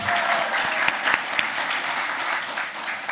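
An audience at a scientific meeting applauding steadily for a few seconds, a dense wash of clapping hands with a few louder individual claps standing out.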